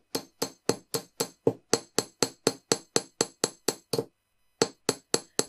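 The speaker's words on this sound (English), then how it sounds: "And hammer that loop." Small hammer tapping a wire loop on a coin bead wire-wrapped pendant, about twenty crisp metallic strikes in a steady quick rhythm, close and clear, with a short pause near the end before a few more taps.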